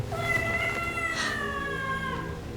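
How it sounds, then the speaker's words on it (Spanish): A cat meows in a kitchen at night, a long drawn-out wavering cry that slides slowly downward, fairly clear over a low background hum with a brief breathy noise partway through. "Tomoko es atraída hacia la cocina por el maullido de un gato"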